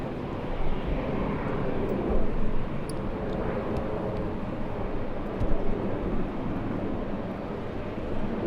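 A plane departs Los Angeles International Airport with a broad distant engine roar that swells and fades. It holds steady for several seconds without voices.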